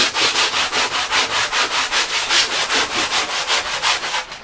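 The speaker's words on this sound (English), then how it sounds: "I wrap a piece of sandpaper around it, a nice coarse grit, and then I just go over the whole thing just to blend." Coarse-grit sandpaper wrapped around a sponge rubs back and forth over surfboard foam, a loud close rhythmic scratching with about two strokes per second, steady and alone.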